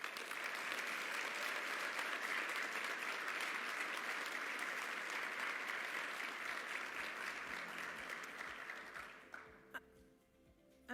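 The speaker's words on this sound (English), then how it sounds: "Let's give one last round of applause for Jamie" Steady applause from an audience at the Bold for Blue Awards ceremony, sustained for about eight seconds before tapering off into quiet with a few last claps.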